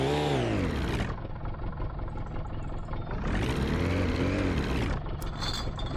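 A car engine idles in My Summer Car, a steady mid-pitched rumble that rises in two long revving swells, near and loud, with no voices.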